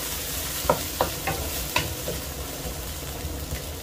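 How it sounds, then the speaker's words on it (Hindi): Finely chopped onions fry lightly in oil for a turnip curry, with a steady close sizzle and a run of spoon scrapes and clacks against the pan at an uneven rhythm. "अभी मैं इसको अच्छी तरह भूनूंगा।"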